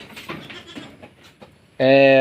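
A native goat lets out one loud, sharp bleat close by after a short stretch of people talking.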